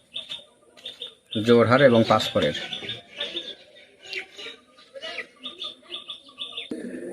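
Pigeons of a direct Oman bloodline chirp and call in short, repeated bursts close by, while someone talks over them for much of the time.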